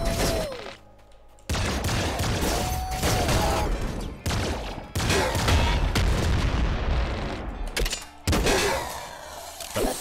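Loud, punchy blasts of heavy crossbow and gunfire in the video game Nuclear Throne fire off in bursts, with booming impacts and crackling debris between them, with no one talking.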